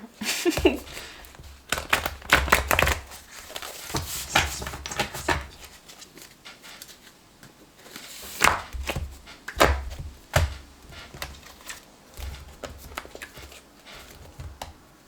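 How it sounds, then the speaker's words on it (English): A large deck of tarot cards being shuffled by hand, giving bursts of riffling and slapping card noise with uneven rhythm and short pauses between shuffles, close and fairly loud. "for some reason I feel like the cards don't want to shuffle"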